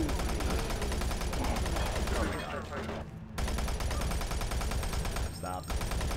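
Sustained automatic weapon fire in the shooter Doom 3, loud and dense almost throughout, breaking off briefly in the middle before resuming, with a voice talking underneath.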